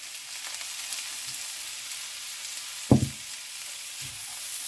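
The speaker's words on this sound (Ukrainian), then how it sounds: "смажемо" Vegetables frying in a pan on the stove, a quiet steady sizzle with a single sharp knock or clatter near the middle and a softer one later.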